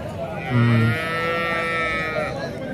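At a weekly bullock market in Punganur, an ox lets out a single loud, close, drawn-out moo over the low murmur of the surrounding market crowd.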